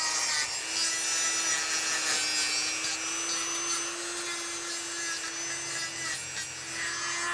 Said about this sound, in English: I'm now exchanging the carbide burr with a little sander, and with this sander removing the periopal